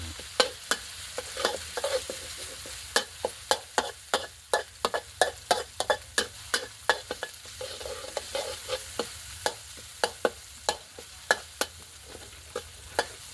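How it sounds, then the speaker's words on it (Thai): Chinese kale with garlic and chili is stir-fried in a pan, a soft sizzle running underneath while a utensil scrapes and taps the pan in quick, uneven strokes, close and fairly quiet. "เราจะผัดคะน้า ให้สุกก่อน"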